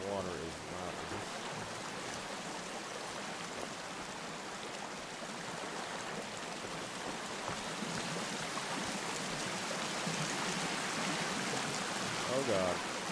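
Steady rushing water from a survival video game, a continuous broadband wash like a stream or light rain that holds at a moderate level the whole time and swells slightly near the end.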